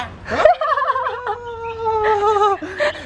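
A bird on a beach in Koh Phangan gives a single loud, warbling, turkey-like gobbling call, close and clear, lasting a few seconds with quiet surroundings.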